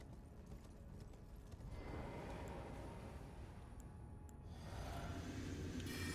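Horse hoofbeats while riding in Elden Ring with the Convergence Mod, a steady clip-clop of galloping hooves that is fairly faint and continuous over a low rumbling ambience.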